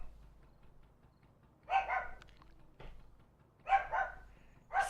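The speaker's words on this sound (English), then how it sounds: "I'm sorry about the dogs, or the dog." A dog barks in two separated bursts, each a quick cluster of sharp barks at moderate distance over a quiet low background hum, with no talk.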